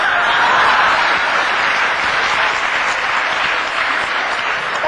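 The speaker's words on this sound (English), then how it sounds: "I think that deserves an applause" A lecture audience applauds for a speaker during a talk on Post Traumatic Slave Syndrome, a dense, loud, sustained wash of clapping that continues without break from start to end.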